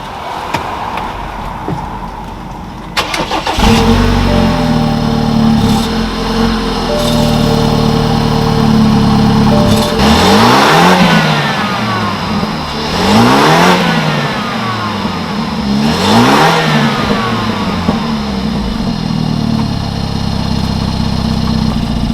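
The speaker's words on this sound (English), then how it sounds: "Y'all want to hear a cold startup on a corny behind 4 Series?" BMW 4 Series with a four-cylinder engine, parked close by, on a cold start: the starter whirs, the engine catches into a loud idle, then it revs hard several times, each rev rising and falling back to idle.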